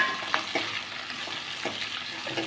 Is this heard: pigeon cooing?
no